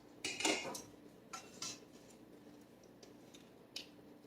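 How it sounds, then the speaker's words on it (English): A braised chuck roast is lifted from a cooking pot, with a few close metallic clinks and scrapes of utensils against the pot, spaced out over a few quiet seconds. "I like to take the roast out of the pot"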